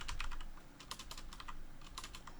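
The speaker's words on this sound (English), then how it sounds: "I cannot type today. At storj.io. It's this keyboard." Quick bursts of typing on a computer keyboard, irregular clusters of close key clicks with short pauses between, fairly quiet and with no talking.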